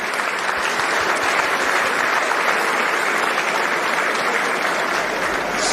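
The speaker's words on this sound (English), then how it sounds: "Let's give everyone a round of applause" Sustained, loud applause from a conference audience thanking a panel at a Bitcoin event, an even unbroken roar of many hands for the whole stretch.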